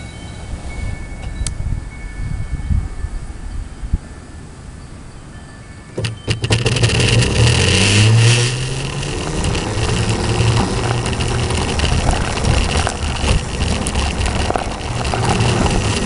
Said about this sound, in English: Speed test, 60 volt, 2000 watt Bomo motor, low gear.